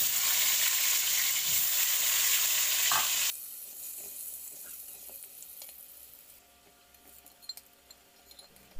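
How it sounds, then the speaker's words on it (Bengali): Potatoes frying in oil in a kadai give a loud, dense, continuous sizzle for a few seconds, then the hiss drops to a quieter bubbling with occasional clinks of a utensil. "প্রথমে আমি আলুটা খুব ভালো করে ভেজে নিচ্ছি।"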